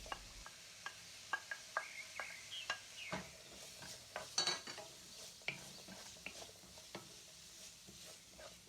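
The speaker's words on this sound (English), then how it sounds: "add 1 minced onion and 1 minced garlic cloves and saute on medium heat until translucent" Minced onion and garlic sauté on medium heat in a pan, a soft steady sizzle broken by repeated scrapes and clinks as a utensil stirs against the pan, fairly quiet and close with no talking.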